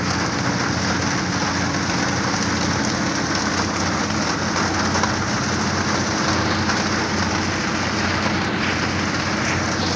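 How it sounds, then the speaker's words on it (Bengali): Heavy rain pours at Galachipa ferry ghat, a dense, steady hiss of drops drumming on surfaces that holds loud and unbroken for the whole stretch, with a low rumble beneath and no speech. "দেখেন দেখেন কি পরিমাণ বৃষ্টি হইতে আছে।"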